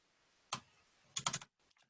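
A few keystrokes on a computer keyboard: one single click, then a quick cluster of taps and a couple of lighter clicks, close and clear against near silence.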